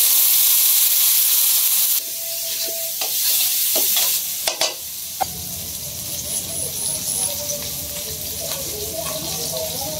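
Meat is frying in a pan as ground onion, garlic, ginger, cumin and coriander spices go in, giving loud sizzling and scraping stirring with a clattering burst midway, while a person talks.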